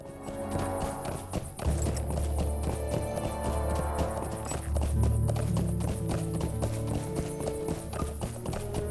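Rapid hoofbeats clatter in a steady galloping rhythm in the video game LOTRO, with a brief whinny and busy synthetic background sounds, moderately loud throughout.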